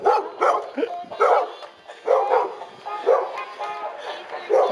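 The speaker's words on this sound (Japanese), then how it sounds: "吠えるな。" A dog barks repeatedly in short bursts at moderate distance along a dark roadside near Kumano Kodo trail in Japan, with a few whimpering yips between barks.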